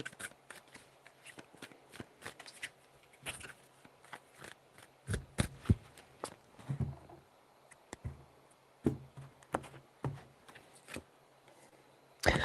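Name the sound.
shuffling tarot cards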